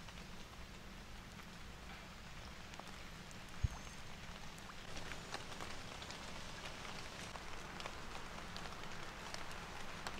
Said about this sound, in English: Man, I swear the rain cannot make up its mind what it wants to do.